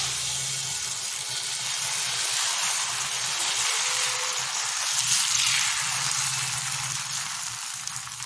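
Dosa batter sizzles on a hot, ungreased griddle, a steady bright hiss that holds evenly throughout with a faint low hum beneath and no voices.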